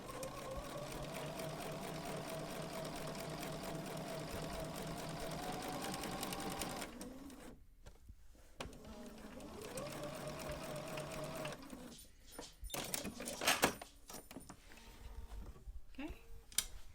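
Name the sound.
Bernina sewing machine stitching pintucks with pintuck foot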